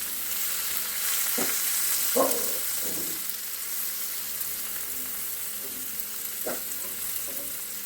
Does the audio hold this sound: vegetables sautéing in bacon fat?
yes